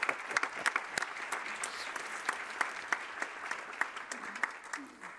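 A room of delegates at an International Organization for Migration council meeting claps warmly, a steady, moderately faint patter of many hands with scattered sharper claps that tapers off toward the end.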